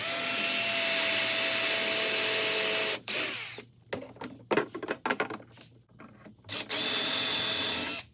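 A power drill whirs continuously for a few seconds while boring through a drilling guide for Blum Tandem undermount drawer slides, then stops amid handling knocks before running again, close up.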